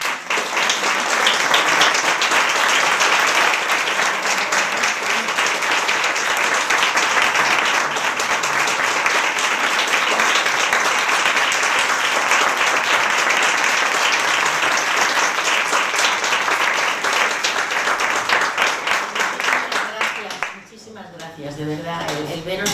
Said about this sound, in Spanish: yo creo que podemos brindar un aplauso